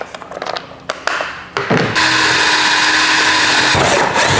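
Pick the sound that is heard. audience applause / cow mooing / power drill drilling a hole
power drill drilling a hole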